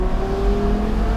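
A Porsche Carrera GT's V10 engine revs in a steady, loud, close drone, with no talk over it.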